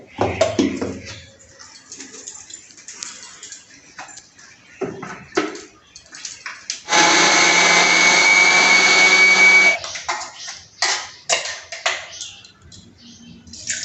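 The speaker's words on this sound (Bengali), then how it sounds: "সেটা আমি একটা মিহি পেস্ট বানিয়ে নেবো মিক্সচারেতে" A mixer grinder whirs loudly and steadily for about three seconds, grinding four boiled onions and four small boiled tomatoes into a fine paste, with clinks and handling clatter before and after.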